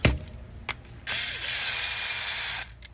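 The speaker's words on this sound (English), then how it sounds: "throw this nylock nut on there" A powered ratchet drives a nylock nut onto a Game Changer 4.3 transmission slipper eliminator plate, a short click, then a sustained buzzing whirr for about a second and a half, close and clear.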